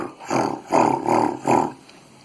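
A beatboxed roar made with a strong, tight, voiceless R, a voice imitating a big cat's roar in three or four close raspy bursts, loud and near, with no other talk.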